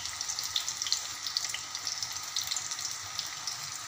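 Onion and finely chopped garlic sizzle steadily in hot oil in a pan for a Marathi-style bhindi masala, a close, continuous crackling hiss with small popping bursts and no talking.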